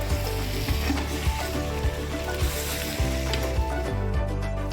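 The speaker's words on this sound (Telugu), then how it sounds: "బాగా ఫ్రై చేసుకోవాలి." Ginger, coriander and spice masala paste frying in hot oil for a ginger chicken dish, a loud, continuous close sizzle with occasional stirring scrapes and no talking.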